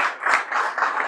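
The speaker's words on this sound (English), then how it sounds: "give her a round of applause again" Applause rises and falls in uneven swells at a launch event as a woman makes her way to the podium, a dense wash of clapping that fills the short moment without any voices.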